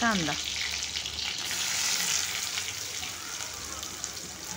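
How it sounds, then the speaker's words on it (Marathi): Garlic and green chili frying in hot oil in a wok, a steady loud sizzle with crackling spatter that fills the whole stretch, with a brief clatter at the start. "त्यामध्ये आपण टाकूया लसूण, मिरची"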